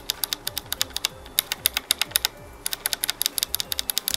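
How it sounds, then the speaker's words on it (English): Keys clacking on a Razer Ornata keyboard, whose switches feel inconsistent, clicky when pressed from the bottom, in a rapid, steady run of close, crisp presses like fast typing, with no voices. "if I press it from the bottom, it's clicky again"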